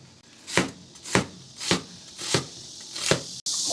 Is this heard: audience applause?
no